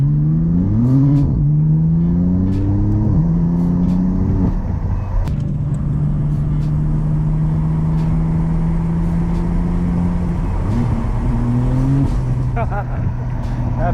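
BMW M4 CS engine heard from inside while driving on cold, rough roads: a close, droning exhaust note climbs in pitch through several gear changes, then settles into a steady cruise, with someone talking over it at times.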